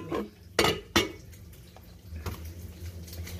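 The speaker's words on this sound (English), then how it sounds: "I'm just washing up dishes." Dishes and cutlery being washed in a kitchen sink: a few sharp clinks and clatters of plates and utensils early on, then a quieter stretch of running water and faint handling sounds, fairly close and with no talking.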